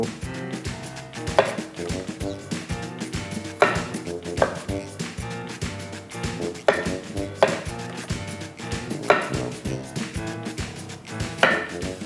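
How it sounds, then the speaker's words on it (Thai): A knife chops papaya into bite-sized pieces on a board, sharp repeated knocks in an uneven rhythm, loud and close, with no speech over them. "หั่นชิ้นมะละกอตามใจชอบ หั่นเป็นแบบ สลับ พอคำอะเนาะนี่ อย่างเงี้ยแล้วก็หมุนแล้วก็หั่นไป"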